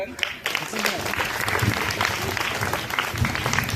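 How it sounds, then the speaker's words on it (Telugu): Audience clapping for children after a school drugs-awareness skit, steady dense applause filling the room from start to finish with a brief dip near the half-second mark. "clap of children"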